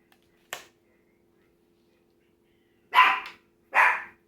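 A small Pomeranian gives one short yip, then two sharp, high barks after a pause, close by in an otherwise quiet room.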